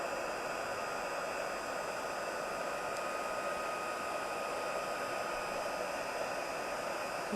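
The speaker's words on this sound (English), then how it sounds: "I'm just going to give it a little blast with a heat gun" Heat gun blasting hot air onto baking parchment coated with embossing powder, a continuous even hiss of blown air with no breaks, fairly quiet and close, with no voices.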